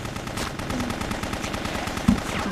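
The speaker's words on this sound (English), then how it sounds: "That's a shotgun." Gunfire rattles steadily through Bloodrayne's tunnels, a rapid, evenly paced series of close shots with one heavier blast toward the end, no talk over it.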